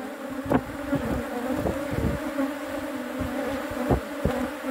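Honeybees from a weak hive buzz steadily up close, a continuous drone with a few louder passes as individual bees fly near.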